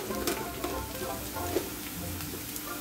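Coriander powder dropped into onions and curry leaves frying in oil over a low flame, a steady close sizzle with light stirring scrapes.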